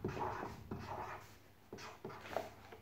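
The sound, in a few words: writing Happy Easter on a craft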